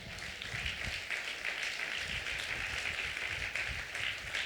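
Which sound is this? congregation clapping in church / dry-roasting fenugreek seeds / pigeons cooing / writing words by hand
congregation clapping in church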